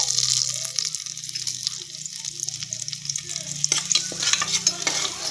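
A bay leaf fries in oil in a pan for jeera rice, giving a bright, close sizzle with quick stirring scrapes and clinks of a utensil. No one speaks.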